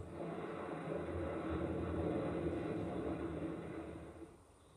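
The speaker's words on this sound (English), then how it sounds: "A volcano." Volcanic eruption from the Voyager golden record sounds, a steady, loud, broadband roaring rumble that holds for several seconds and eases slightly near the end, with no voices.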